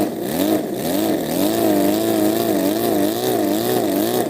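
A mini V12 model engine running and revving steadily throughout, its tone rising and falling in smooth wavering swells, close and loud with no talk.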